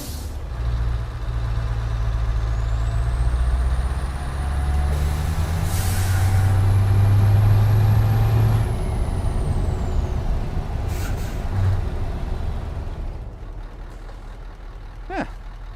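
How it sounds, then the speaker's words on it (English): A Scania truck in Euro Truck Simulator 2 rumbles with a low steady engine drone that rises and falls, overlaid with a hissing air-brake release and a faint high whine, with no talk. "Do like the Z-Mod engine sound, man"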